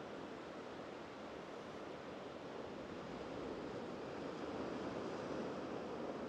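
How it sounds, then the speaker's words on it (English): Steady rushing surf of the North Sea washes continuously onto a rocky beach at Scarborough, a soft broadband roar of waves with a slight swell toward the end. "The sound of that sea is amazing"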